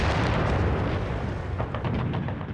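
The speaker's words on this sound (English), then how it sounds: "They were supported by 2 World War I monitors with huge 15-inch guns." Booming artillery fire from World War I monitors' huge 15-inch guns, a dense, loud rumbling barrage of blasts with rolling echoes that fades slightly toward the end.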